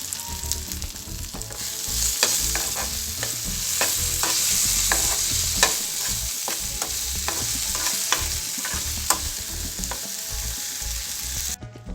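Tomato pieces with turmeric sauté in a pan, a steady close sizzle broken by repeated sharp scrapes and taps of a spatula stirring through the cooking.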